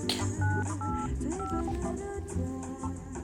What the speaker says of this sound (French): Je rappelle un ex.